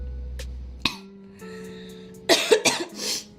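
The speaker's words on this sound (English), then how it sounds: "I already have a cold and I'm coughing" A few sharp coughs near the end, loud and close, after a quiet stretch with a faint steady hum.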